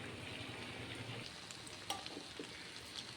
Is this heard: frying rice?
yes